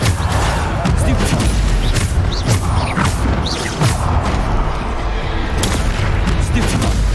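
Repeated Bombarda blasting spells in Hogwarts Legacy, booming and crashing in a steady string of heavy impacts through continuous combat noise, with a voice calling out spell names over the fighting.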